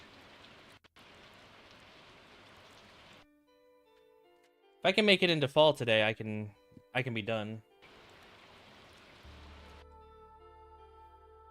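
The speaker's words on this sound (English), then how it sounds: "I still have the rain sound effects." Steady rain sound effects from the video game Stardew Valley hiss softly in the background, while a person speaks briefly over them partway through.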